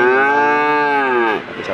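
A single loud, close moo from a Simmental cow, a long sustained low bellow that tapers off after about a second.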